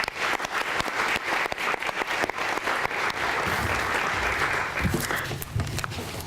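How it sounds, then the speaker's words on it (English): An audience at a university donor recognition luncheon claps steadily with dense, sustained applause that carries on for several seconds before thinning slightly near the end. "Let's give everybody a round of applause."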